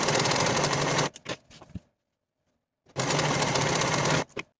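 Sewing machine finishing the raw edges of dress fabric pieces: two loud, close, continuous runs of rapid stitching, each trailing off into a few short stutters, with a near-silent pause between them.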